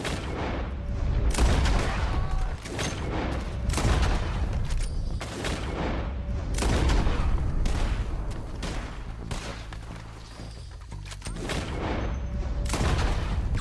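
Dense volleys of gunfire from Red Dead Redemption 2 crack out in bursts again and again across a long exchange, loud and close, with the shots coming in quick, uneven clusters and little pause between them.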